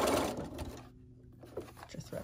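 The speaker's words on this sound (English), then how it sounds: "So you're going to do a little back stitch." A sewing machine runs briefly in short bursts while stitching quilt block pieces, with a quiet gap in the middle and a person speaking over parts of it.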